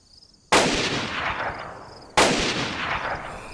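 Two sharp, loud gunshots from a firearm in the DayZ video game on the Chernarus map, each cracking sharply and ringing out with a long decaying tail, spaced about a second and a half apart with no talk.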